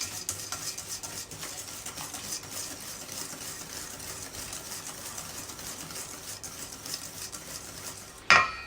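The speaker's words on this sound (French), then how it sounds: "on casse le jaune et on mélange" Egg yolks being broken and stirred into cake batter for a pineapple upside-down cake, a steady soft scraping and whisking of a utensil in a bowl, fairly quiet and continuous, ending with a brief louder clatter.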